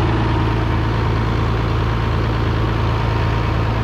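A farm engine idles steadily while warming up during wheat harvest, a loud, continuous low rumble with an even pulsing throb and no talking.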